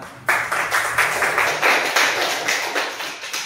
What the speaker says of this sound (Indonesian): Oke, tepuk tangan untuk Aruna.